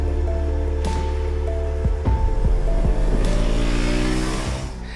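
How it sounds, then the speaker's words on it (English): A 2024 Royal Enfield Himalayan 450 motorcycle engine is revved repeatedly, its pitch rising and falling in loud sweeps, close and with no talk over it. "This is a motor that likes to be revved out."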